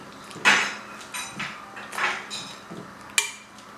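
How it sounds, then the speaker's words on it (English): A spoon knocks and scrapes against a metal cooking pot as salted food is stirred back to a boil, giving a series of irregular clinks and clanks, close by, with no talking. "I just added some salt and just stir it until it's boiled again."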